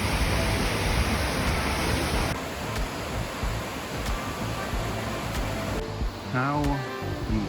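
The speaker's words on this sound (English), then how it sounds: "to see a waterfall" A waterfall at the end of a hidden walk near Osaka, Japan, roars as a dense, constant rush of falling water, loud and close, with faint voices briefly under the noise near the end.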